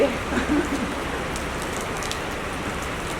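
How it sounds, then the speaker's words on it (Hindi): Heavy rain falling steadily in Andheri, a dense continuous hiss of drops hitting surfaces, fairly close and even, with no talk over it. "बहुत बारिश हो रही है प्रभु"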